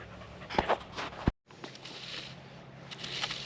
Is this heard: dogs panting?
yes